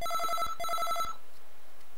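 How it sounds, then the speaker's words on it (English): A telephone rings in two rapid trilling bursts of about half a second each, close and clear, and then the room falls quiet. "Oh, phone's ringing."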